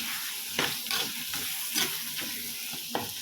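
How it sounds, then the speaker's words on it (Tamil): Onions and tomato sautéing in hot oil in a pan, a constant sizzle broken by a handful of spatula scrapes and stirs at irregular intervals, close up with no one talking. "நல்லா தக்காளி வதங்கட்டும்."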